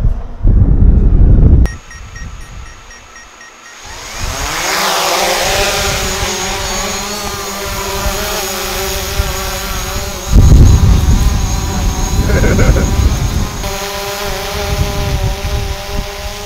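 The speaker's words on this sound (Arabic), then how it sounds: "نجرب الطيارة يا جماعة." A camera drone flying during a test flight at an Egyptian tourist resort, its steady high-pitched motor whine sustained and fairly loud throughout, with rising and falling pitch as it manoeuvres.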